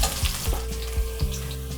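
Garlic fries in oil over a low flame for a Tamil elephant foot yam masiyal, sizzling steadily and close up with soft stirring knocks, with no talking.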